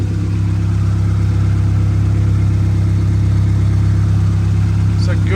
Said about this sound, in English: Huge exhaust leak, as you guys can tell.